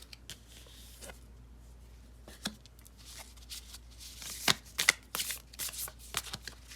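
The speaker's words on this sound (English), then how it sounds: "All the cards are so pretty, but it's so hard to shuffle." A heart-shaped oracle card deck being shuffled in a series of crisp riffles and slaps, starting quietly and growing louder and busier toward the end, with no talking.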